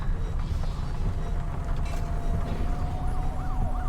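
A distant siren wails in the city of the video game Cloudpunk, its rising and falling tone faint beneath a steady mechanical hum and background game ambience, with no voices.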